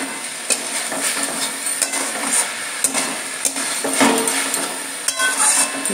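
A spoon stirs sajne flower posto curry in a cooking pot, scraping and clinking at an uneven pace over a soft, steady sizzle of frying, close up and with no voices.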